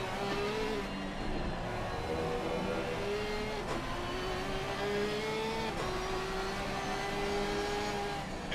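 Racing cars in Assetto Corsa Competizione, a Porsche and an Aston Martin at Indianapolis in the rain, drone steadily with rising engine tones as they accelerate through gears, loud and continuous with no talk.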